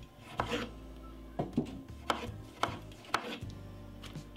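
Knife chopping through two medium-sized tomatoes on a cutting board, six or seven distinct close thuds at an uneven, steady pace, quiet overall, with no talking.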